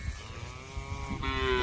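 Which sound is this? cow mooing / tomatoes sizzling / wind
cow mooing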